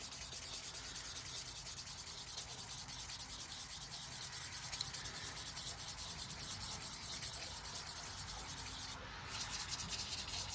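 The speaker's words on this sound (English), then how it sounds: "being able to sand and still remove material" Abrasive paper rubs against a wooden bowl spinning on a lathe, a steady, even hiss with a faint regular rasp that runs throughout, broken by one brief dip near the end.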